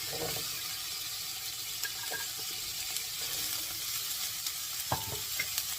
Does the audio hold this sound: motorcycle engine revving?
no